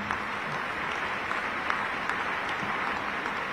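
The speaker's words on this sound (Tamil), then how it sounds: "நீங்க அடிக்கிறீங்க கைத்தட்டு" An audience applauds at a political talk event in Tamil Nadu, a dense, sustained crowd clapping that holds at an even level throughout without voices over it.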